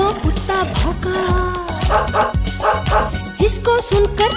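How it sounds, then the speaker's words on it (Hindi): A dog barks repeatedly in quick, loud bursts over bouncy music, the barks coming in rhythmic groups. "भौं भौं भौं भौं कुत्ता भौंका"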